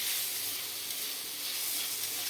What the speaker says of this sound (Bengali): এখন আমি এর মধ্যে দিয়ে দিলাম পাঁচখানা মতো কাঁচা লঙ্কা